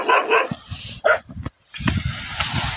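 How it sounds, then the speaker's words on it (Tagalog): Several fierce dogs on a remote island bark sharply in quick bursts, near and loud, with a yelping, whimpering quality between barks, followed by a short silence and then rustling movement. "Nakakatakot ang aso."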